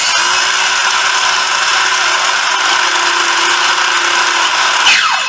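A Makita cordless drill runs continuously at steady speed, a bright high-pitched whine with a constant tone, close and loud, winding down at the end.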